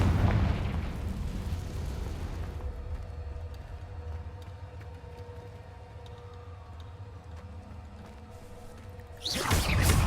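A loud Confringo blasting spell bursts in Hogwarts Legacy with a heavy whooshing boom, then settles into a low rumble and ringing tones before another blast erupts at the end.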